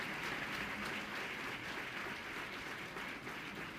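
Audience applause at a university festival gathering, a steady wash of many hands clapping at moderate distance, sustained evenly throughout without voices.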